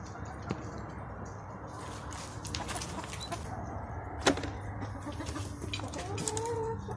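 Chickens in a straw-floored coop raised for organic eggs, giving scattered soft clucks and one sharper squawk over a low, steady background hum, quiet and fairly close.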